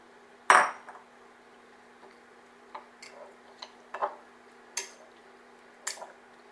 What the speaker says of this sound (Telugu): ఇందులోనే రొయ్యలు కూడా వేసేసుకుని మిక్స్ చేసేసుకుందాం.